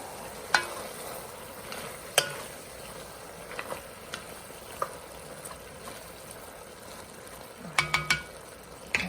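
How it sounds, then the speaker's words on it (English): Chili with canned green chilies stirred in a pot, a quiet low bubbling simmer broken by a few sharp spoon scrapes and clinks against the pot, with no talk. "I'll stir that around a little bit."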